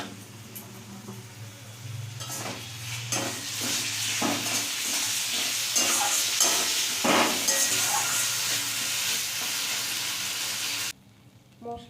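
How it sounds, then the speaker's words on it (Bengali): Spices with salt, turmeric and a little sugar sizzle in a pan for paneer curry, a loud steady frying hiss punctuated by stirring scrapes, cutting off abruptly near the end. "মশলাটা আমার ভাজা ভাজা হয়ে গেছে"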